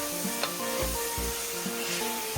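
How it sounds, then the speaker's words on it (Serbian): Meat for a wine goulash with potatoes fries in hot oil over medium heat, a steady close sizzle broken by regular scraping strokes as it is stirred slowly. "i lagano neka se prži"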